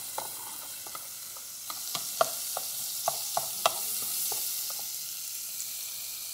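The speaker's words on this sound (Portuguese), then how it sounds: "Então eu vou estar refogando aqui e depois eu já jogo o peixe aqui dentro." Onion sautés in a pan with a soft steady sizzle. Light spatula taps and clicks are scattered through it, close and quiet.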